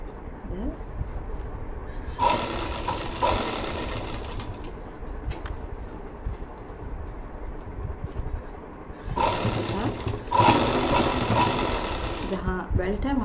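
Sewing machine double-stitching the belt of a shiny DIY bag, two bursts of steady rapid stitching, one around two seconds in and a longer run near the end, with quieter background noise between.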